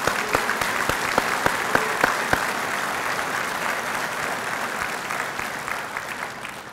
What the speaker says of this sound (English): Let's give all of these partners and suppliers a round of applause.